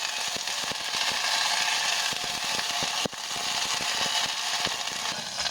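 Ginger garlic paste hits hot sesame oil in a pressure cooker while Madurai-style mutton uppukari is being prepared, giving a loud, steady hiss peppered with sharp crackling pops throughout, with no talking.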